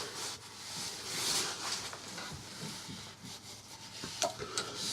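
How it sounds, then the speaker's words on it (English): Wet sanding an elm and walnut wooden bowl with very fine grit, a steady soft rubbing and scratching that continues throughout at close range, with a few brief clicks near the end and no talk. "you try to wet sand, you're wet sanding with a very, very fine grit"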